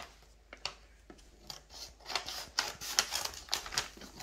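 Scissors cut open a paper package holding a squishy toy, a quiet series of sharp snipping and crinkling bursts that quicken toward the end, close up with no talking.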